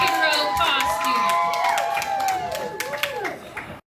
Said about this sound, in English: Kids, let's all cheer for Brother Nathaniel and his new superhero costume.